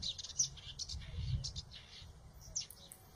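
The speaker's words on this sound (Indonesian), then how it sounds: "suara burung berbeda, kemudian digabung jadi satu" Compiled songbird calls meant for training songbirds: a few faint, brief high chirps scattered over a low background rumble.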